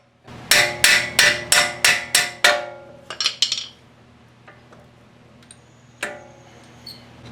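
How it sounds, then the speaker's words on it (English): About eight sharp, ringing hammer blows strike a hub nut being seated flush on a car's rear axle during a brake swap, evenly spaced and close, followed by a few lighter taps and one last hit. "and then use a hammer."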